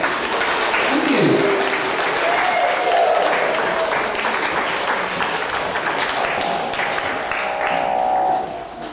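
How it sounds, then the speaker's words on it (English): A family audience at Adventure Wonderland gives a big round of applause for presenters, loud continuous clapping and cheering, with a voice and a squeaky tone heard over it before it fades. "do a big round of applause for our presenters, Vince Martin and the Doctor"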